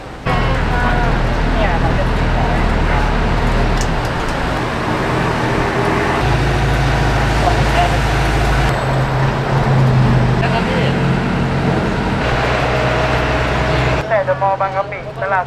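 Road traffic rumbles along a flooded street in Lat Phrao, Bangkok, with a rescue vehicle running nearby as a steady loud engine drone, shifting in bursts, while a man calls out over a loudspeaker.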